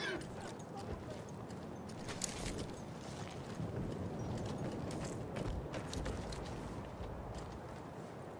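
Cavalry horse hooves in a battle video game, a dense continuous clatter of galloping beats mixed into loud, busy combat noise, with shouting voices nearby.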